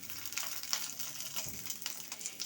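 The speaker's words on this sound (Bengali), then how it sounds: "এখন আবারও রসুন, কাঁচামরিচ, শুকনা মরিচ একসাথে ভেজে নিব" Garlic, green chilies and dried chilies fry in oil, a quiet, steady crackling sizzle with faint sharp pops scattered across the moment, no voices.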